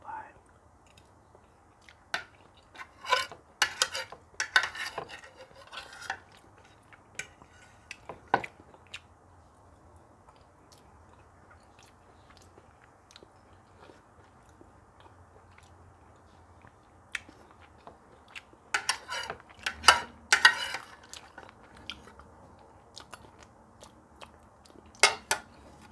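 Eggs and grits being eaten with cutlery, with quiet chewing and utensil clicks in bursts separated by soft pauses, louder clusters near the start and again around the end, close-miked and intimate.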